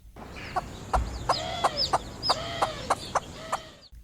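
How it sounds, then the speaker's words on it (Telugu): A hen clucks repeatedly in short, uneven bursts, close and clear, with brief quiet gaps between calls and no talking. "తల్లి కోడి కోడిపిల్లను చూడగానే కొక్కరుకో కొక్కరుకోక్కో కొక్కరుకోక్కో అంటూ అరిచింది"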